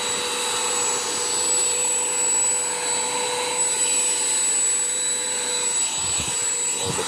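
A Shark UltraCyclone Pet Pro Plus handheld vacuum cleaner runs loud and close with a steady high-pitched whir and airy rush, holding an even drone throughout with no speech.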